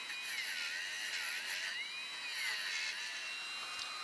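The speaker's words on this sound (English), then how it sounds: "To clean the heavily rusted pole piece and the distributor cap, I am using a Dremel tool with a stainless steel wire brush." A Dremel tool fitted with a stainless steel wire brush cleans a rusty distributor cap and pole piece from a 1986 Pontiac Fiero, giving a continuous high whine that wavers in pitch as the load shifts.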